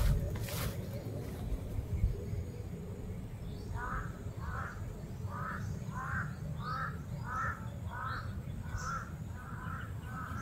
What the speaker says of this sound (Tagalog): Bakit ang dami nitong uwak?